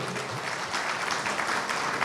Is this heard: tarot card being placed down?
no